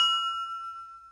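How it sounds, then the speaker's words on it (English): A single bright glass ding rings out and slowly fades, a clear sustained tone with shimmering overtones. "Let's import the sound of the glass."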